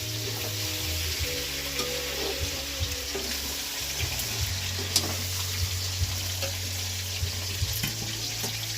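Fish frying in a pan, a steady close sizzle with running water and occasional utensil clinks around it, continuous throughout with no talk.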